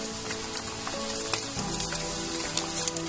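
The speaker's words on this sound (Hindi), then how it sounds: "इसलिए मीडियम फ्लेम पर गूंद को अच्छी तरह से हम लोग फ्राई कर रहे हैं यहाँ पे" Edible gum (gond) frying in ghee over a medium flame, giving a steady, dense sizzle with small crackles and pops throughout, close and unbroken, with no talking.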